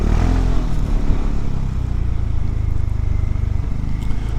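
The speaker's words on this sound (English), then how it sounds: "And the thumper noise is not obnoxious." A 2022 BMW C 400 GT scooter's single-cylinder engine drones with a loud, steady low thumping beat while riding, continuous for several seconds with some wind roar.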